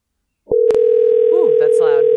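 A steady telephone dial tone rings out loud and continuous after a brief click, holding for nearly two seconds while a voice speaks briefly over it.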